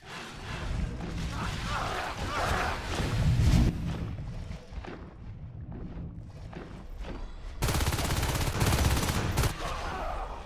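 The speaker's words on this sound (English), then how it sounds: "And the Marines appear to be shooting different targets." Marines in the Natural Selection game fire on aliens in rapid bursts, with chattering gunfire and clanks over a busy match mix; after a brief lull, a louder, denser stretch of shooting follows.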